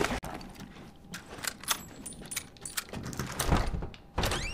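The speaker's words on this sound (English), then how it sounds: "Look at the ammo going in the rifle." Rifle ammunition loading in a video game: a busy run of metallic clicks, clacks and mechanical thunks, dense and fairly loud, with a heavy low thump near the end and no talking over it.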